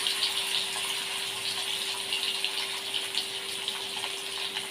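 A piece of korameenu fish drops into hot oil and fries with a steady, dense sizzle and crackle that holds at an even level throughout, close by and with no talking.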